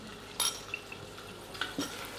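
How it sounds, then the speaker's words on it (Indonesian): Chopped shallots for nasi goreng pete go into a pan and are stirred, with light metallic clinks and scraping of a utensil over a soft sizzle, close by and with no talk. "Nah, sekarang kita pakai bumbunya. Bawang merah kita masukin."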